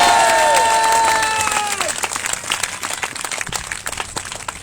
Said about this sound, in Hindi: आमीन बोलण ते जोर नाल ताली बजा